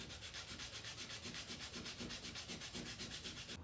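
Folded sandpaper rubs over a wood carving held at a 45-degree angle, making a steady, rhythmic rasping scrape with quick regular back-and-forth strokes, close and clear, with no voices.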